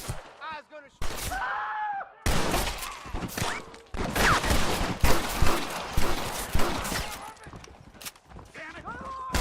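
Repeated gunfire in Red Dead Redemption cracks in rapid bursts and single shots, with horse hoof clatter and shouted voices mixed in throughout a busy, loud shootout.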